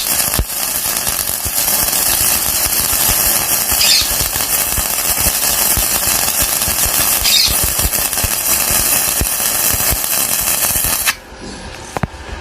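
Gasless MIG welding with Vonder flux-core wire gives a loud, steady crackling sizzle that runs without a break for about eleven seconds, then cuts off abruptly, leaving a few faint clicks.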